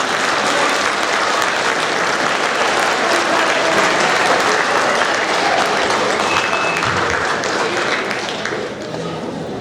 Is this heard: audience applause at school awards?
yes